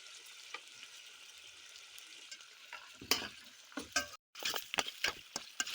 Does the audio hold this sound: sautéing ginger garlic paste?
yes